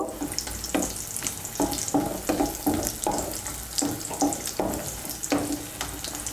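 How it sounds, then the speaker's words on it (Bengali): Matar dal bori, lentil dumplings, frying in hot oil, a close steady sizzle with repeated stirring clatter and scraping at an uneven pace, without talk. "তেলটা গরম হয়ে গিয়েছে, এর মধ্যে আমি বড়িগুলো ভেজে নিচ্ছি।"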